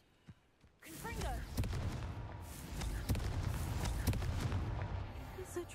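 Confringo blasting spell in Hogwarts Legacy during a Merlin trial: after a brief quiet moment, a heavy blast erupts into a sustained, rumbling roar with repeated thudding impacts.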